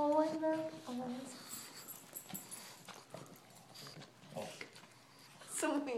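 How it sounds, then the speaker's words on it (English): A small pug snorts and grunts in pig-like oinks, close and irregular, with soft voices nearby. "So much oinking sound."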